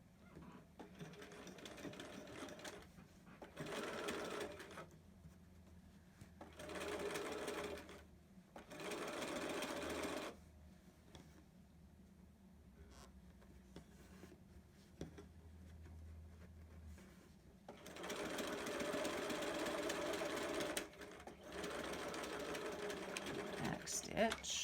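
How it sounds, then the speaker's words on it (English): A sewing machine edge stitches close to the edge of a zipper pouch, running in several whirring bursts of a few seconds each, separated by pauses, with a long final run. "So you're just going to edge stitch right close to the edge."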